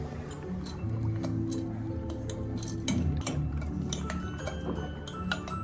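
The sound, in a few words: spoon stirring melting candle wax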